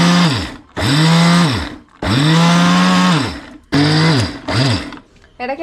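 A mixer grinder crushes Kerala-style chammanthi podi spice powder in loud, close bursts, the motor whining up and cutting off in several pulses of varying length.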